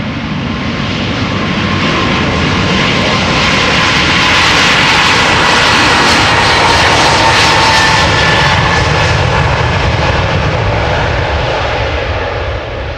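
A 24-year-old Boeing 777-200 bound for Newark takes off at Amsterdam Schiphol. Its jet engines make a loud, sustained roar that swells and holds for the whole stretch, heard from a spotting position with no talking.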